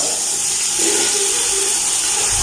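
Chopped onions hitting hot oil for chicken matar pulao, giving a steady, loud broadband sizzle and hiss that fills the whole moment without a break.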